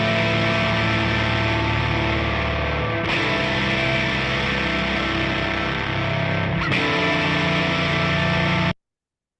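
Electric guitar on the neck pickup strumming sustained extended chords with ninths, full and steady at moderate level, with two fresh strikes partway through before it cuts off abruptly.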